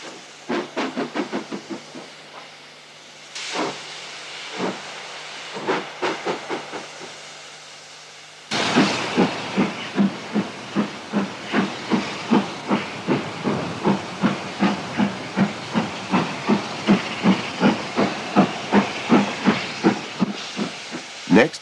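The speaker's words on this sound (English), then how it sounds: "Hollybank number 3 has some trouble keeping her feet as she hauls out a rake of wagons." Hollybank No. 3 steam locomotive losing grip while hauling a rake of wagons, rapid hissing chuffs racing in quick bursts, then a long run of loud evenly spaced exhaust beats close by.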